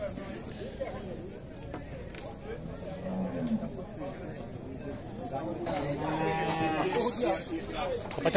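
Cattle low at a livestock fair in Dois Riachos, Alagoas, with a drawn-out moo near the end rising over constant crowd chatter and people talking nearby.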